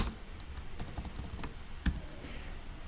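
Quiet clicking of a computer keyboard as a short word is typed, a quick irregular burst of keystrokes over faint room hiss with one firmer key press near the end.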